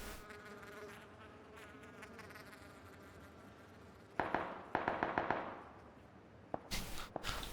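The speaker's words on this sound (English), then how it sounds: "My guy just heard the gunfire" Distant gunfire in PlayerUnknown's Battlegrounds comes as faint scattered cracks and bursts, clustered in the second half over a low buzzing ambience.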